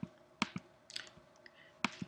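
Sparse keystrokes on a computer keyboard while typing an Oracle database command: a handful of separate sharp clicks with short pauses between them, fairly close and quiet.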